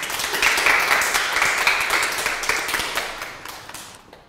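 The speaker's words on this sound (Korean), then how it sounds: "큰 박수로 모셔보죠" Audience applause at a personal-finance lecture as the next presenter is welcomed, with dense continuous clapping that gradually thins and fades toward the end.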